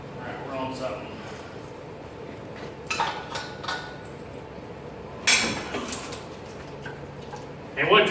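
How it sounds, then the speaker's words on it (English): Wire covering on a Jeep Cherokee XJ engine cracking and popping as a cherry picker hoists the engine at an awkward angle: a few sporadic, sharp crackling bursts over a quiet workshop background. "And what you're hearing is this covering for the wires is what you're hearing cracking and popping."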